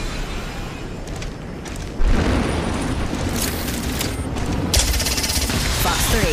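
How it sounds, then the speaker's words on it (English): Valkyrie's missile swarm fires in Apex Legends as a dense, loud barrage of rapid bursts and booms, swelling midway and again near the end, with no talk over it. "Fox 3, missile off the rails"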